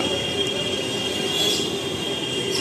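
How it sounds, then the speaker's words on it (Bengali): A metro train passes near Dakshineswar with a steady, loud rumble and a high metallic wheel squeal. The noise holds evenly throughout, with no voices. "ট্রেন যাচ্ছে।"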